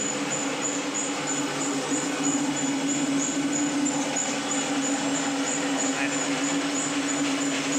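A belt-driven mill hulls Rathasali paddy with a steady, dense mechanical roar and a constant whirring hum, unbroken for the whole stretch, with a faint high squeal riding on top.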